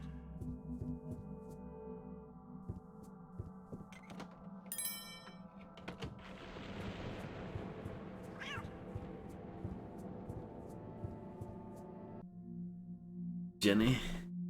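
A cat meows inside the stealth game Thief: Deadly Shadows, a short cry rising over steady game ambience and clatter, with a louder burst near the end.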